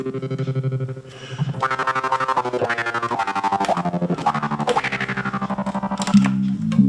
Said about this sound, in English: Helicopter. Everyone needs a helicopter,